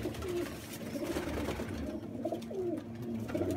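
Pigeons coo softly and repeatedly close by, low throaty calls over a steady background hum.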